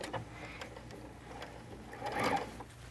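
A sewing machine stitching a set-in sleeve, its faint mechanical whir running in short starts with a brief stop to back-tack, quiet and without talk.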